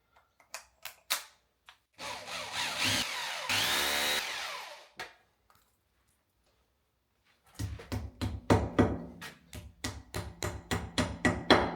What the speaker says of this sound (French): je viendrai percer directement mes 2 autres trous suivants sans me casser la tête à refaire ma prise de cote